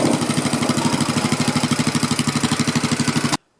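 A car engine runs hard under throttle with a loud, steady, rapidly pulsing throb that holds for about three seconds, then cuts off abruptly into silence.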